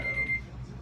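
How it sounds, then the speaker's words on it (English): A high-pitched electronic beep sounds in quick pulses for a moment over a low background hum. "So why something would beep, I don't know."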